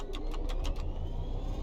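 Train engine in Train Sim World 3 powering up under throttle: a steady low rumble and drone with a few faint rhythmic knocks early on, continuous and fairly quiet, with no voices.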